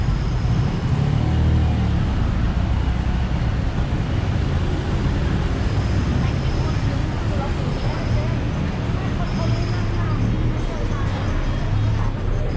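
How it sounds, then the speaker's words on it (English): Heavy road traffic on a busy Chinatown street in Bangkok: a continuous dense wash of engines and roadway rumble, near and loud, with passing vehicles blending into a steady roar. "I don't recall heavy traffic like this"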